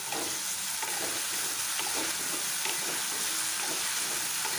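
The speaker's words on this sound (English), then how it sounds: "So just be careful when you're using salt. Okay. Stir it very well." Rajma masala stirred and fried in a pan: a steady, close hiss of sizzling throughout, broken by repeated scraping strokes of the spoon.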